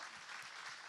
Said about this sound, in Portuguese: Vamos aplaudir todos os nossos voluntários, irmãos